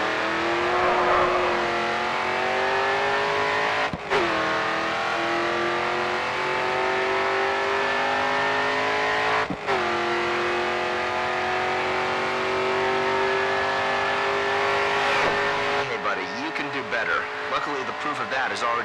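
Race car engine in Grid 2 video game held at full throttle on a final straight, a loud sustained roar climbing in pitch through gear changes, with a commentator talking over it.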